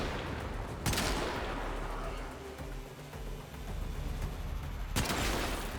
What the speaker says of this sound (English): maybe I should like actually use my gun